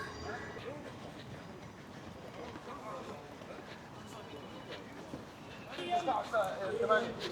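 A train crosses a suspension bridge in Glasgow, a faint distant rumble of rolling wagons under outdoor ambience, with clattering and squealing wheel sounds swelling near the end.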